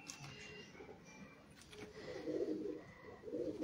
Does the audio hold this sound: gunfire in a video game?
no